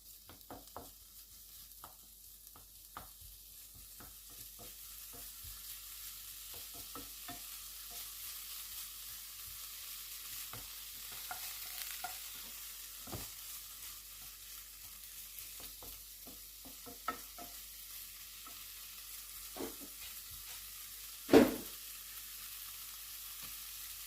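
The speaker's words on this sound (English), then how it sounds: "Now I'm going to put the chorizo. I'm going to cook this one." Chorizo cooks in a pan with a low, steady frying hiss, dotted with occasional soft clicks and one sharper knock near the end, with no voices.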